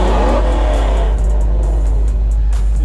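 A Ford Mustang muscle car at an outdoor car show, its engine revving loudly and close by in a steady, sustained roar with rising surges, no talk over it.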